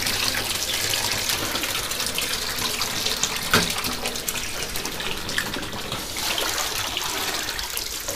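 Tap water runs steadily into a bathtub, filled to 88-degree warmth for ducklings, a continuous broadband gush at close range with no talking.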